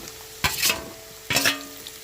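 Masala frying in a pan with curry leaves and green chillies gives a quiet, steady sizzle, broken by two brief scraping strokes of stirring; no voices.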